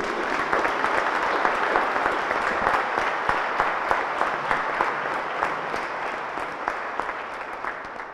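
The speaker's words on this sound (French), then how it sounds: "je voudrais que tout le monde applaudisse bien fort ces scouts" A congregation at a Saturday church mass at St Patrick applauds the scouts, a steady, moderately loud clapping that continues for several seconds with no speech over it.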